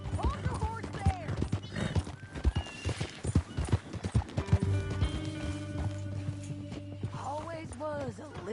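Horse hooves clip-clopping with a horse neighing in the Red Dead Redemption video game, set under a steady musical hum and occasional character speech, the whinny rising near the start and again near the end.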